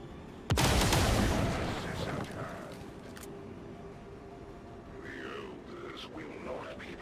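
A sharp, loud overwatch gunshot fires in the XCOM: War of the Chosen video game and rings out with a long decaying tail, and faint game effects trail after it.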